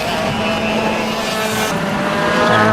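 A junior Formula Blue racing kart driving up the straight at a clay pigeon kart circuit, its engine a loud steady buzzing drone held close throughout with no pauses.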